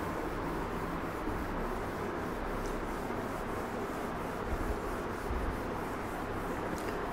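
Pencil or eraser rubbing out writing in a notebook during a maths lesson, a steady close scrubbing friction that runs continuously and evenly throughout with no speech.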